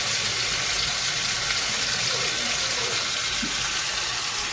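A spice paste of ginger, garlic and onion frying in a pan, a steady broadband sizzle that runs unbroken at moderate volume throughout, close to the pan, with no talk over it.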